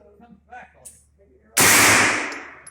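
Faint murmured talk gives way to one loud, close gunshot from a 16-inch AR-9 carbine in 9mm, the report ringing out and slowly decaying.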